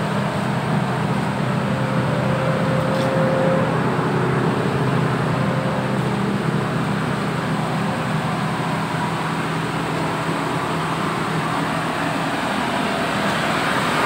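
A Suzuki Escudo exhaust rumbles steadily at idle after a Blackcore engine flush, giving a constant low drone with a broadband hiss and no talk.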